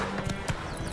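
Roach the horse galloping in The Witcher 3: a quick burst of rhythmic hoofbeats, close and clear, lasting under a second.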